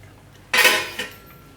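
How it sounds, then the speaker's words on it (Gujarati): Paneer grated by hand over finished palak paneer, heard as a short dry scraping burst of about half a second followed by a fainter second scrape, close and alone. "તો ઉપરથી થોડુંક આપણે આ રીતે છીણીને નાખશું ઉપરથી પનીર"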